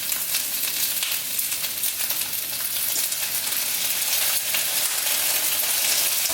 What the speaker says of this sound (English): we're gonna saute that in there so the green beans absorb the soy sauce